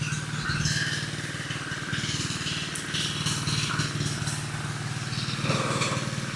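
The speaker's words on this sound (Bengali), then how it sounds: "রাস্তায় পাশে পাইলিং করতে আছে, এই জন্য মেশিন চলতেছে।" A piling machine works at a roadside construction site, giving off a loud, steady, low mechanical drone with a throbbing engine rhythm that continues without a break, with no talking over it.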